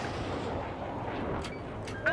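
Battlefield 3 video game combat brings a low, rumbling barrage of distant gunfire and explosions, with faint voices and brief radio-like tones over the din.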